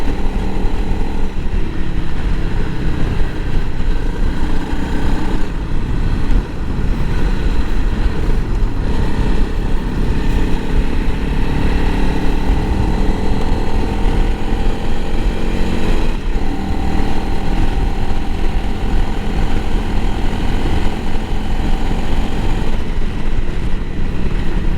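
A 2021 Honda CRF 300L Rally motorcycle rides over a washboard dirt road, its engine droning loud and steady while constant rattling and juddering run underneath throughout.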